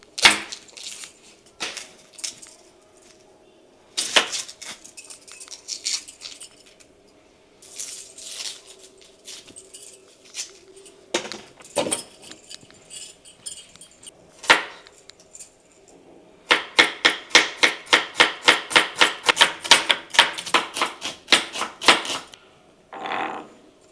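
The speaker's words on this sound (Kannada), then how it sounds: "ಈರುಳ್ಳಿ ಕಟ್ ಮಾಡ್ಕೊತೀನಿ ಇವಾಗ" Onions cut with a knife on a board, scattered single chops at first, then a fast, even run of close, crisp knocks near the end.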